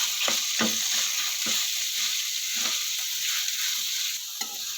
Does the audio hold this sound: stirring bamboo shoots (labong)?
yes